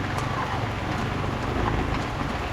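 Steady rain falls around a vendor's roadside selling spot during a storm, a dense continuous patter with low rumbling wind, close and unbroken.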